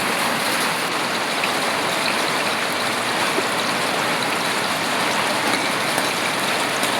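Urad dal, black pepper and peppercorns sizzle in a pan with long-cut onion slices, a loud, steady, dense crackle that runs unbroken from start to finish with no one talking.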